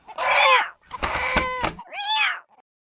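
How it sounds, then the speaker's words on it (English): Stray cat meowing three times up close, loud drawn-out cries with a short pause between each, the middle one rougher and more strained, with no talking. "That dang stray cat is a decent mouser"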